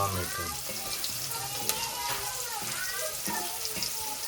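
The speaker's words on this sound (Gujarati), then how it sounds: "પહેલા ડુંગળી નાખી દેવાની, બરાબર ચડવા દેવાની, મસ્ત શેકાવા દેવાની." Onions fry in a pan for Rajasthani dal baati, a continuous sizzle with watery, bubbling textures throughout, heard close and fairly loud.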